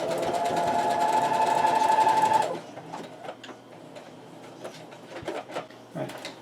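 A sewing machine stitching through four layers of fabric runs in one steady whirring burst for about two seconds, then stops, followed by soft handling clicks and rustles.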